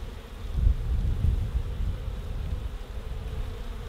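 A steady, low hum of many honeybees buzzing close by around beehives, with a soft rumble of wind underneath.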